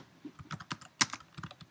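Quiet, irregular clicks of fingers typing on a computer keyboard, close by and alone, with one sharper keystroke near the middle.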